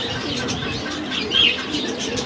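A pigeon recovering after an operation gives soft, close coos against a low background hum, with no voices.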